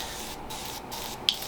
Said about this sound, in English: so give her a good spray down of Pledge